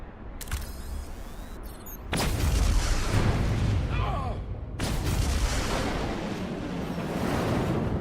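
Star Trek Resurgence video game detonation: a sudden loud explosive boom bursts out, followed by a rumbling tail, then a second heavy blast, with brief clicks and crackles around them.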